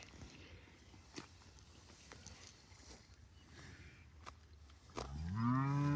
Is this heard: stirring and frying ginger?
no